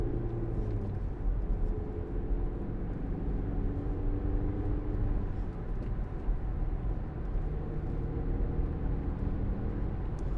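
A 2015 Audi Q5 2.0 TDI S line Plus quattro on Goodyear tyres accelerates on the road, its diesel engine a steady low drone blended with road noise throughout, heard from inside the cabin.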